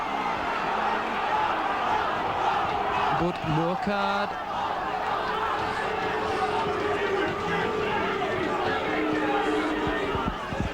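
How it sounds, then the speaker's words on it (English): A rugby league crowd at a Workington Town versus Salford match in 1995 jeers and murmurs in displeasure at tackles, with a commentator speaking over the continuous noise. "The crowd not too happy about a few of these tackles, and certainly making their feelings felt to Mr. Holdsworth."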